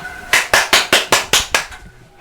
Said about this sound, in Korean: 얼떨떨한 박수가 터져 나옵니다